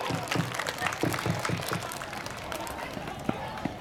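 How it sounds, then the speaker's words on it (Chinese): Guests at a primary school sports day give the children a round of applause, a steady outdoor patter of many hands mixed with crowd noise, heard under a voice speaking over a loudspeaker. "所有来宾给我们小朋友一个掌声的鼓励。"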